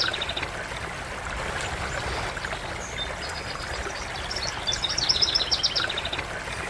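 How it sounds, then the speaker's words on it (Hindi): Waterfall water flowing in Jim Corbett National Park, a steady moderate rushing stream heard from a short distance, with birds chirping over it. "यहाँ पर पानी की आवाज़ आ रही है, झरने की आवाज़ आ रही है।"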